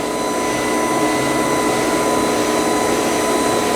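An automated grinding machine works rocker parts for Pro Mod and Top Fuel engines, giving off a steady, loud, even whine and hiss that holds without a break.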